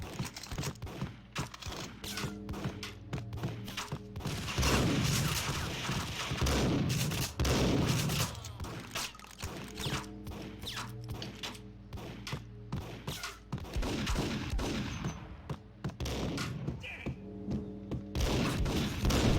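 Repeated shotgun blasts in the Max Payne video game, a dense run of loud, booming shots with thuds and clatter, firing in irregular bursts over a steady background of action.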